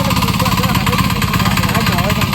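A farm tractor engine runs steadily close by, a loud continuous idling rumble with knocking vibration throughout, under people talking.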